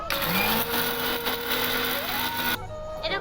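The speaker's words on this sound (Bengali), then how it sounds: "এবার এটাকে আমি মিক্সারে পেস্ট করে নেব ই অন করে দেবো" A mixer grinder whirs loudly, grinding dried mango into amchur powder. Its steady motor drone shifts pitch as the load changes, then cuts off near the end.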